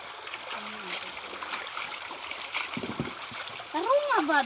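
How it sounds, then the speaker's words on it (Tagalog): Clear stream water flowing and trickling outdoors, a soft continuous burble close by with small splashes, and a few faint voices heard briefly. "Sapa na mo dire, tinaw kayo."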